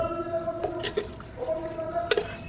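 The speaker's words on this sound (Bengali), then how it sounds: "এরপর গামলাটা ধুয়ে কিছুটা জল দিয়ে দিলাম, মশলা ধোয়া জলটা" Spice-rinsing water is poured from a rinsed bowl into a bowl of oily mutton marinade, giving a few brief, soft splashes and trickles over a quiet room tone.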